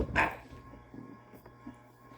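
A family's furry pet dog gives one short bark near the start, followed by faint whimpers and small noises in a quiet room.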